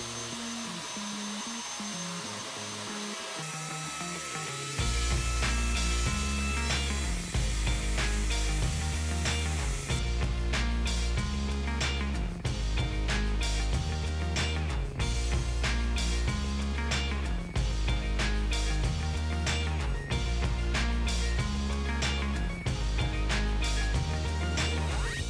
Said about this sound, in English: I'm going to use my router to first establish at full depth the start and stop point of the mortise